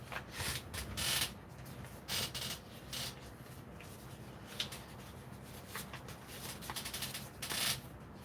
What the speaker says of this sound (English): And we're going to sand the hole out even more.